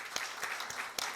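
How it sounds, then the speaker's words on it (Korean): A congregation at a church leadership training session gives brief applause, a dense burst of clapping with a few sharper claps standing out. "박수 한번 해드리겠습니다"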